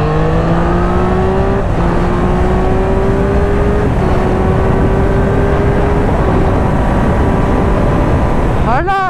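A loud 2023 Triumph Street Triple RS sport motorcycle engine revs hard and accelerates, its pitch climbing steadily with a brief dip at a gear shift, then a final sharp rev.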